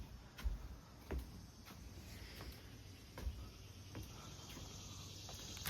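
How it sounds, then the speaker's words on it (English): Summer cicadas buzz outdoors in a steady, high-pitched drone, with faint scattered ticks and no talking. "The summer cicadas."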